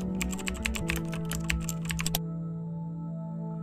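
Rapid keystrokes clatter on a computer keyboard, close and crisp in a quick irregular burst for about two seconds before stopping. A faint steady hum remains afterward.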